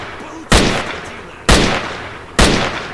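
Three loud gunshots from an inaccurate gun in the STALKER video game, spaced about a second apart, each a sharp crack with a decaying tail over low background noise.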